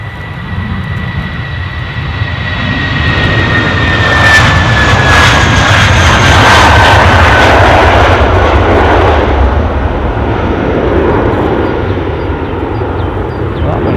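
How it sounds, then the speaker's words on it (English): Aircraft engine spooling up at Edinburgh airport, a broad roar swelling from a steady hum to a loud peak and then holding, with a whining tone across the top; a voice talks faintly underneath. "I could hear the engine pick up."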